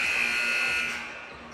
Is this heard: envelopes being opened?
no